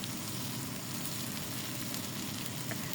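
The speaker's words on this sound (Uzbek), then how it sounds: "Hammasini yana bir bor yaxshilab aralashtiramiz." Potatoes and onions fry in a pan, giving a steady, dense sizzle with a constant hiss and crackle that holds even throughout, with no voices.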